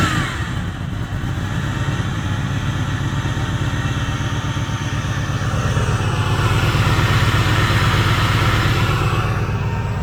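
A Corvette V8 with an upgraded cam fires up and settles into a loud, lumpy idle, the steady throb swelling a little louder toward the end, with no talking over it.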